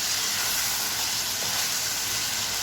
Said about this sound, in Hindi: आपने इसको भूनना है 5 मिनट, ताकि लहसुन अदरक का कच्चापन ख़त्म हो जाए।